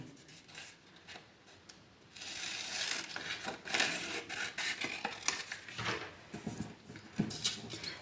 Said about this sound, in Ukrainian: Відрізаємо дві смужки приблизно однакового розміру, довжини та ширини.